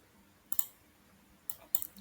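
A single computer keyboard key pressed during spreadsheet work, with several crisp, quiet clicks spaced through an otherwise near-silent moment and no talking.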